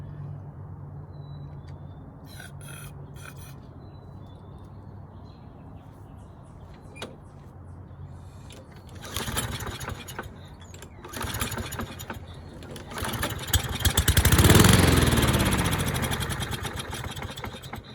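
A curbside Toro lawnmower with a dirty carburetor is pull-started; the small engine catches with a loud sputtering burst, runs roughly for a few seconds, then dies, with quieter rattles and handling noises before it.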